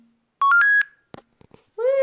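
A phone scanning a NovoPen Echo Plus smart insulin pen gives a loud series of rising electronic beep tones, a few soft clicks, then a bright confirmation chime, heard up close without speech.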